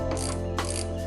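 A ratchet loosens the radiator bolts on an NA Miata. Its close, fast clicking runs in two quick bursts and is heard alone.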